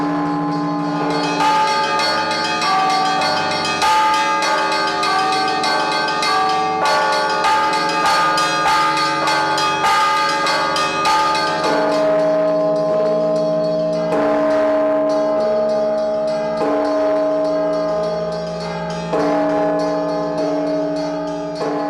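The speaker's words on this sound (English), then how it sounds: "5 different sized bells, molded in Russia, ring for more than 100 years." Five different-sized Russian-cast church bells, the largest over 8 tons, ring together in a monastery belfry, a dense, sustained peal of overlapping strikes and long ringing tones, loud and continuous with no talk.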